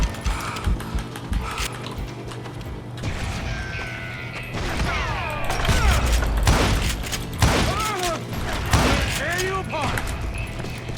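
Heavy 12-gauge shotgun blasts boom out one after another in the western shooter Call of Juarez Gunslinger, roughly four spaced shots with ringing, metallic tails over clanking game sounds.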